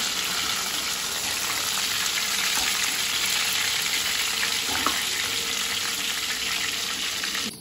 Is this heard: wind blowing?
no